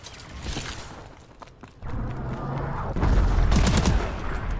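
Vulcan weapon mounted on the back firing in Call of Duty: Advanced Warfare, a dense roaring stream of rapid fire that swells louder and heavier over the last seconds, mixed with game clatter and no talk.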